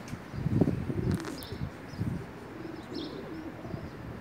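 Pakistani pigeons coo softly at close range, several low throaty calls in an uneven rhythm, with a few faint chirps and light rustling in between.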